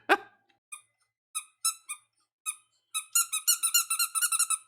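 A squeaky Pui Pui Molcar Zombie Shiromo candy toy figure is squeezed up close, giving spaced single squeaks that turn into a quick run of rapid squeaks at the end, with no voices.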